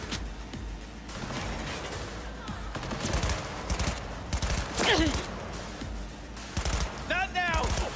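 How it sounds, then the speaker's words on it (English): Rapid automatic gunfire in Cyberpunk 2077 rattles in sustained bursts, loud and close, with sharp impacts and crashes between volleys and voices murmuring underneath. "Who else is shooting at me?"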